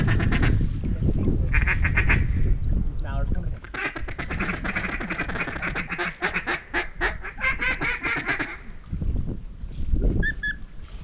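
Teal and wood ducks call near and far over a flooded hunting spot with decoys, quick quacks and whistles coming in bursts, mixed with rapid clicks and under hunters' loud shouted talk throughout.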